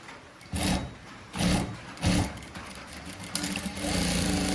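A sewing machine stitches a princess line frock in three short, close bursts of mechanical chatter separated by pauses, then settles into a longer continuous run.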